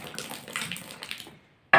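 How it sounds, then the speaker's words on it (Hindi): Water flows out of a plastic bottle during a science experiment, a soft uneven splashing stream that stops briefly before a sudden louder gush at the end. "पानी निकल रहा"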